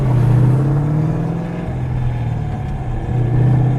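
A deep V8 engine of an SVT Mustang Cobra Terminator idles and revs with a rumbling burble, loud and close, the pitch rising and dipping over a few seconds.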